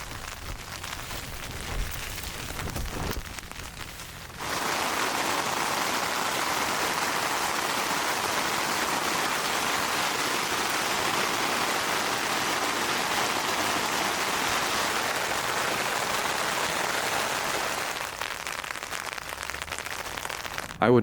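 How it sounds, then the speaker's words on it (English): Heavy storm rain pours down on a camp in the Moab desert, a dense, steady hiss that swells in after a few quieter seconds and holds loud and continuous before easing slightly near the end. "I would not have wanted to be stranded outside in rain that heavy."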